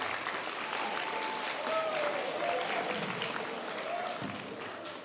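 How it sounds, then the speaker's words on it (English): An audience claps steadily for a teachers' association at a school award ceremony, a dense, even wash of applause at moderate distance with faint murmuring mixed in. "and that does deserve some applause"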